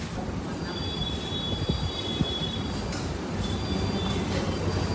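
A train pulling into an Indian railway station, a steady heavy rolling rumble with long high wheel squeals drawn out over it, loud and close with no talk.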